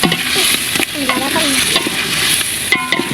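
About a kilogram of meat fries loudly in spiced oil in a pot for Bengali vegetable khichuri, an intense close sizzle with repeated clanks and scrapes of the stirring spoon.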